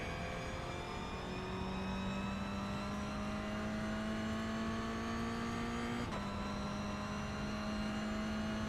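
A Mazda Miata race car engine in the iRacing sim drones at high revs, its pitch climbing gradually, then dipping sharply with a gear change and holding steady again, loud and continuous with no talking.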